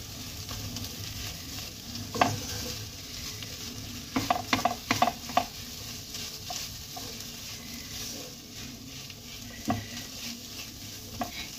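A prawn and potato cutlet filling with salt being stirred and mixed in a pan, a soft steady sizzle under repeated scraping and clacks of the spoon against the pan, close and without talk.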